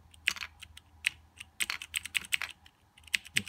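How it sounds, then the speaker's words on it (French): Fast, uneven typing on a homemade ASCII keyboard built for an Apple 1, a string of crisp, close key clicks in quick bursts and short pauses, with no voices. "C'est un clavier ASCII de notre fabrication."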